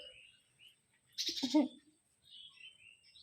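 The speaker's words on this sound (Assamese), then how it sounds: "চৰাই এটাই মাতি আছে।" A single bird call rings out, short and fairly close, between stretches of quiet outdoor ambience with faint chirps in the background.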